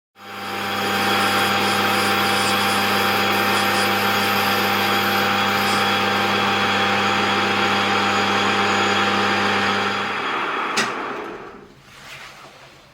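Steady machining drone of a metal lathe cutting a test taper in scrap stock while making a new part for a 1929 motorcycle, running loud and continuous for about ten seconds before stopping abruptly with a sharp clink and fading rattle.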